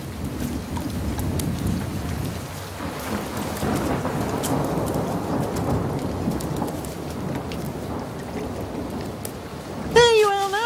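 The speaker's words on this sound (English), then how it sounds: "Oh, it's only a spring shower, Johnny." Spring rain shower falling steadily outdoors, a dense hiss of drops with low rumbling undertones throughout, ending with a brief squeaky tonal sound at the close.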